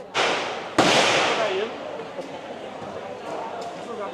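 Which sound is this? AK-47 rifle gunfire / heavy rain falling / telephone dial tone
AK-47 rifle gunfire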